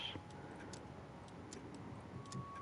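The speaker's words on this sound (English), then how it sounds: "Lots of clocks." Several clocks tick faintly in a quiet room in the Sherlock Holmes: Crimes and Punishments video game, with soft regular clicks over a low background hum.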